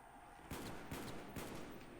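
A fully automatic sniper rifle in a zombie shooter fires three sharp, evenly spaced shots about half a second apart, faint and distant over a constant background hiss.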